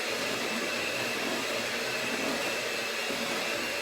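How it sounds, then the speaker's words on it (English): Electric hand mixer whirring steadily through brownie batter, a continuous close motor hum with a bright buzzy tone and no pauses. "There's your hand mixer."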